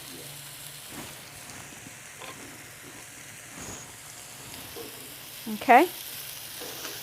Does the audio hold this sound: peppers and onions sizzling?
yes